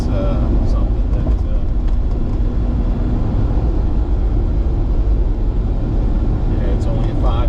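A 1987 Ferrari Testarossa cruises in third gear at about 2,000 RPM, its engine a steady low rumble mixed with road noise, heard from inside throughout while someone talks over it.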